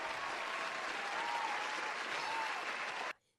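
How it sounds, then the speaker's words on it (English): A dense, steady applause sound effect plays on a sports talk show, a full crowd's clapping at constant loudness that cuts off abruptly after about three seconds. "Give me applause."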